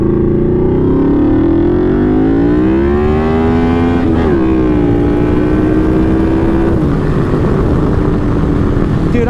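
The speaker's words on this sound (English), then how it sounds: "I don't know if you guys can even hear me because this exhaust is so loud" A Yamaha V-Max motorcycle with a very loud exhaust accelerates hard, its deep, throaty roar climbing in pitch, briefly easing, then climbing again, constant and close throughout.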